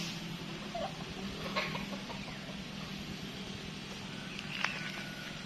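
Chickens in a coop in a rural yard in Laiya, San Juan, Batangas cluck faintly and intermittently, with a few sharper calls standing out against a low background hum.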